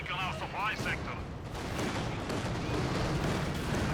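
A landmine detonates amid Company of Heroes 2 battle noise, a heavy rumbling blast that swells and sustains under a commentator's voice, with scattered gunfire around it.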